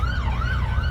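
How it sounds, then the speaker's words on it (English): A police car, sheriff car and ambulance escort through the town of Thermopolis, Wyoming, its siren wailing in a steady rising and falling sweep over a low rumble of traffic, close and loud without pause. "we got an escort by a police car, a sheriff car, and an ambulance."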